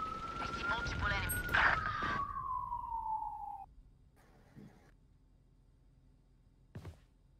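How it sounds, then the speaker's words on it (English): An in-game emergency siren during a VALORANT match wails loudly with a falling pitch sweep for several seconds, then cuts off, leaving faint noises and a short burst near the end. "Apologies for the siren."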